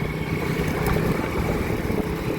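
A Hero HF Deluxe BS6 motorcycle engine running steadily after its 20,000 km paid service and oil change, a close, continuous low thrum with no speech over it.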